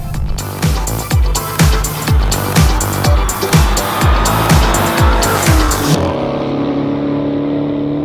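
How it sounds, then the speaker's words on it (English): A powerful Dodge sports sedan engine roars through rapid repeated gear-change surges, exhaust baffles open, loud and close, then fades into a lingering high whine as it speeds away. "There are baffles that open up to give you a little bit louder exhaust note"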